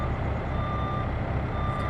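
Steady reversing beeps from a lorry in Farming Simulator 17 on a farm, a continuous high tone pulsing over a low engine rumble, loud and close, with no talk.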